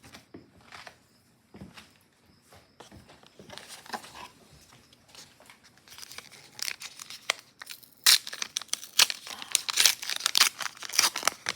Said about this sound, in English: Sound of ripping paper.